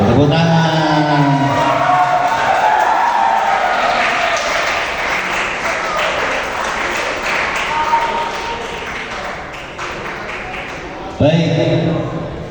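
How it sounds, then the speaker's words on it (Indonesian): Applause from an audience at a creative writing workshop at a vocational school, loud clapping mixed with crowd voices that tapers off before a voice resumes talking near the end. "Tepuk tangan."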